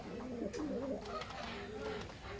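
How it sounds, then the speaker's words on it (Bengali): A pair of pure Oman bloodline teddy pigeons coo in low, wavering, repeated calls, close and moderately quiet, with faint background noise. "স্ক্রিনে এখন যে কবুতর জোড়া দেখতে পারতেছেন পিওর ওমান ব্লাড লাইনের এক জোড়া কবুতর"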